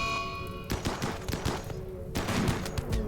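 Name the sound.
gunfire in the video game RimWorld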